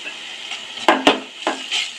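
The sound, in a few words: ginger paste frying in pan for mutton rogan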